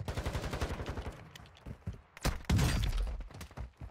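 Gunfire in the video game Call of Duty Warzone 2, rapid bursts of automatic shots followed by heavy booming impacts, loud and close, with no speech.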